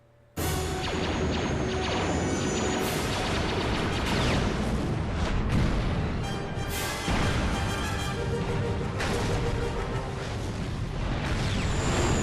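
Continuous battle noise from Star Wars: Knights of the Old Republic 2: heavy booming explosions and rapid blaster shots pile up for about twelve seconds after a sudden start, with several sharp blasts standing out.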